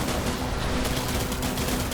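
Sustained rapid gunfire in the game Death Stranding, a dense continuous fusillade filling the whole moment, loud and close with no pause between shots.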